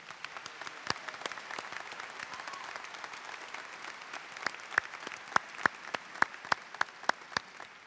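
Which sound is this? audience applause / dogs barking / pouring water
audience applause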